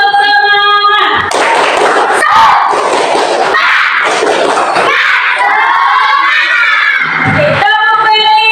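A class of children clap a rhythmic cheer together, loud bursts of clapping and shouting in a classroom with brief pauses between rounds.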